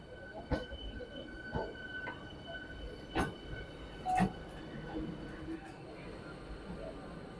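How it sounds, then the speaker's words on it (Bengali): An AC local train pulls into platform 5 from the car shed on the Sealdah–Ranaghat line, with faint rumbling, scattered clanks and brief wheel and rail noises under a steady station background. "আমাদের এসি লোকাল কারশেড থেকে আমাদের 5 নম্বর প্ল্যাটফর্মে ঢুকে যাচ্ছে।"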